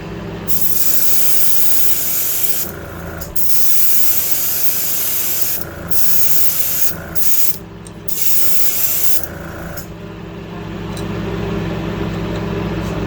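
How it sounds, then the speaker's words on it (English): Heat gun blowing over freshly painted scales on a Wiggle Wart crankbait lure, a loud steady airy hiss that cuts out briefly a few times before resuming. "Let's give that a heat set, and we give another coat."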